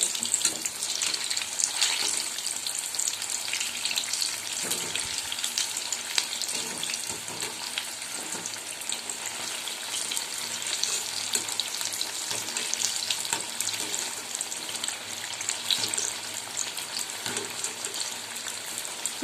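Ridge gourd bondas frying in hot oil, a steady close bubbling sizzle with faint crackles that runs unbroken throughout.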